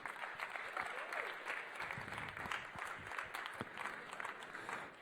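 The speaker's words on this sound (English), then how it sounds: "Round of applause for Precision Racing." Audience applause for the Precision Racing team at the F1 in Schools World Finals knock-out competition in Singapore, a steady wash of clapping throughout at moderate level, with faint voices mixed in.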